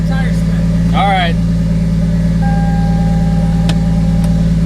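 A manual-swapped Toyota Soarer engine runs loud with its exhaust off, a steady, close droning rumble that never lets up, while a person speaks briefly over it.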